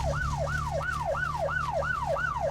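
Police car siren in the driving game My Summer Car, a loud, fast wailing yelp that repeats about every third of a second, close by over a low engine hum.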